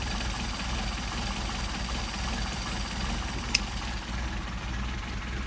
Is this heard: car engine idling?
yes